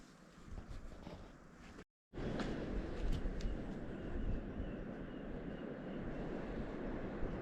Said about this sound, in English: I can hear the waves and the water crashing.